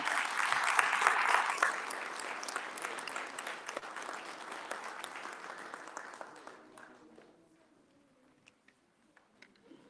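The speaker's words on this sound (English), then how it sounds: "Let's have a huge round of applause to our hero, Chhatrapati Shivaji Maharaj" A crowd at a Shivaji Jayanti celebration in the USA applauds Chhatrapati Shivaji Maharaj, loud dense clapping that gradually thins and fades, leaving a few scattered claps and quiet room sound at the end.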